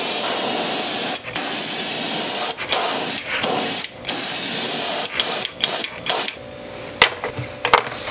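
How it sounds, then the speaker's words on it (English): Transparent blue paint sprays onto a fishing lure in bursts of steady hiss, each burst broken by short pauses, close and loud with no speech. "what I'm doing is painting it with this transparent blue, and I'm starting off on top and wanting it to sort of overspray onto the yellow"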